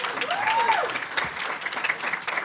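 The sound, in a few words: audience applause for inducted future doctors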